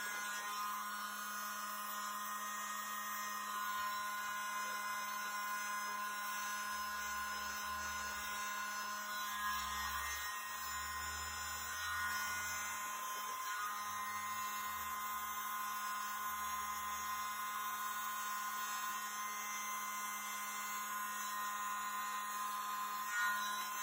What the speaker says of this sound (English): I like using this little leaf blower because I think I have a little bit more control